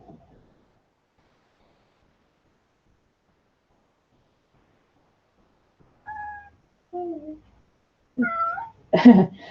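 A two-year-old cat lets out four short, high, kittenish meows after a long stretch of silence, each one close and a little louder than the last.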